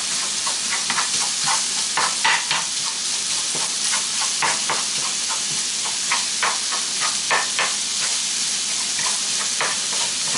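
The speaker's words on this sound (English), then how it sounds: "You don't have to cremate the sausage, but you want to break it down as much as you can." Crumbled sausage frying in a pan for biscuits and gravy, with a steady close sizzle and repeated scraping, stirring clicks as the meat is broken apart; no voices.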